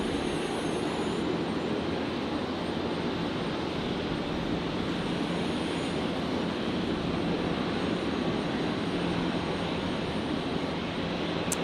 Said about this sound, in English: Qantas 526 just arrived here in Brisbane